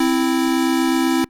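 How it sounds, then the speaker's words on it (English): A synthesizer set to square-wave output holds one steady, bright, buzzy tone. It is loud and alone, lasts just over a second, and cuts off sharply. "Instead of sine wave, I'm going to make sure that it's outputting a square wave."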